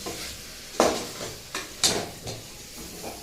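Asafoetida, pepper and cumin sizzle in a hot pan, with a few sharp stirring scrapes and spoon clinks over a low, steady frying hiss, close and alone.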